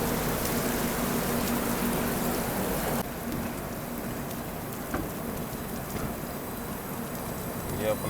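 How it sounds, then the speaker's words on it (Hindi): Heavy rain pours down steadily at Hajipur railway station, a dense, loud hiss of rain on surfaces throughout with a faint steady hum beneath, easing slightly partway through. "आप देख ही सकते हो किस लेवल की बारिश हो रही है हाजीपुर में"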